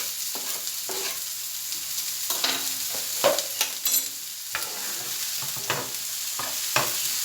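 A single tomato added over half an onion, frying and stirred in a pan with steady sizzling and repeated scraping strokes, close and moderately loud, with no talk.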